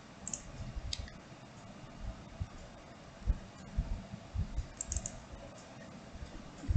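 Computer mouse clicks and keyboard typing while filling out a candidate profile form with a photo upload, a steady run of faint close-up clicks and taps with no voices.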